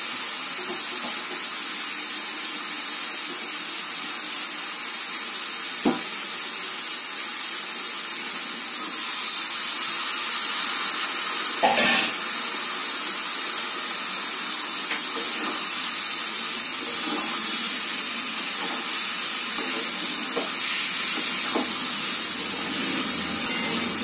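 Prawns in a hot pan for Bengali chingri bati chorchori sizzle with a steady, bright hiss that grows louder and fuller partway through, with occasional small clinks and no talk.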